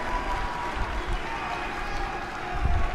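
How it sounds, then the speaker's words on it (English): Arena crowd in WWE 2K19 cheering loudly at an ECW event as a wrestler dives under the ring, a steady roar of noise swelling near the end, with commentary talking over it. "The ECW crowd is going wild as Candice goes under the ring."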